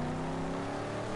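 A car engine rumbles steadily at idle in a garage in the video game Mad Max, a continuous low mechanical drone, close and fairly loud.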